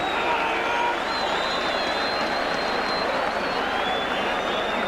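A big Halifax crowd applauds a tremendous try at a 1987 Challenge Cup round three rugby league match against Hull Kingston Rovers, steady dense clapping and cheering filling the whole stretch without a break.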